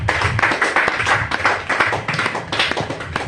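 A church congregation claps in praise of Jesus, with dense, steady, rhythmic applause from many hands, loud and close, sustained throughout.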